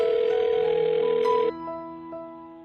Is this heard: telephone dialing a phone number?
yes